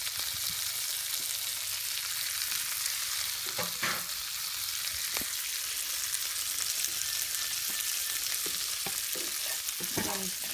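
Onion and garlic sizzle steadily in a pan for a chicken parmesan dish, with a spoon scraping and stirring in scattered clicks throughout; close, continuous frying hiss with no talk.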